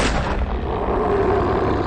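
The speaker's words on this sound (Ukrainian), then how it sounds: "Кирило зробив черговий постріл," A loud, booming gunshot with a rumbling, sustained roll that fills the moment, heavy and close, with no talking.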